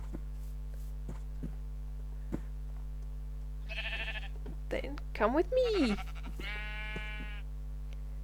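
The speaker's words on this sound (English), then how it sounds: "Come on, sheep, you can get round." Sheep bleat in Minecraft, a few short wavering cries in the middle of the clip over a steady hum, with a voice speaking briefly.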